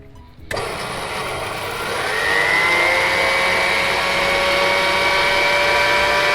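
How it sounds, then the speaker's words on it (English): A Kenwood Chef stand mixer whisks egg whites in a bowl, its motor starting abruptly and then running as a loud, steady whine that rises slightly in pitch as it gets up to speed, with no talking. "There we go, the Kenwood Chef is on the go."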